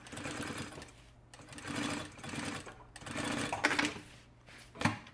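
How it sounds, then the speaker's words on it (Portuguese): A sewing machine runs in several short bursts, stitching a seam on a wallet lined with bonded satin, its motor whirring close and steady between brief pauses. "agora traz bem retinho e passo uma costura do outro."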